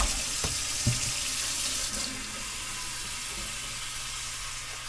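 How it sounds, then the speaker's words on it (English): Water runs from a kitchen tap into a cooking pot in a steady, close splashing stream, with a couple of soft knocks near the start. "we're just going to add a little bit of water to our pot"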